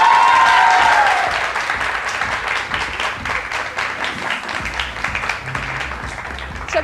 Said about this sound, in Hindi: इनके लिए बहुत सारी तालियां.